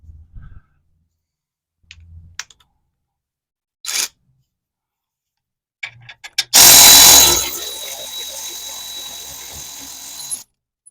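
A tap-and-die tool runs through the nut threads of APEX vehicle recovery points. Scattered clicks and knocks lead into a loud, abrupt burst of whirring that settles into several seconds of steady grinding.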